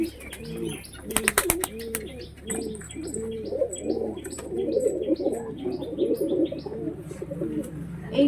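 Pigeons cooing inside a loft, repeated soft throaty coos overlapping from several birds, with faint chirps, a brief burst of wing flapping near the start and murmured voices in the background.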